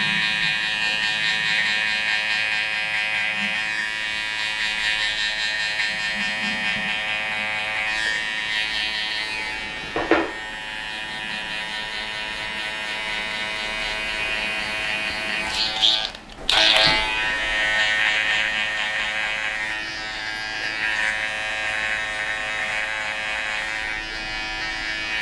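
Electric hair clippers buzz steadily and close up throughout while sharpening a fade and shape-up, with a brief drop and a couple of sharp clicks midway as the blade shifts position.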